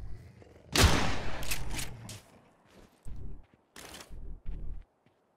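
Several sharp gunshot blasts from the video game Miscreated, an opening burst followed by a few quicker, thinner shots and short pops spaced out, fairly loud and close.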